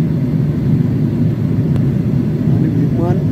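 Steady, loud cabin rumble of an airliner in flight from Chicago to Delhi, a continuous low roar that stays even throughout.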